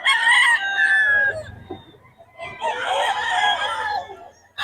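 Rooster crowing twice at close range at a gathering in Bocaue, a long loud crow, a pause with low background murmur, then a second full crow that trails off.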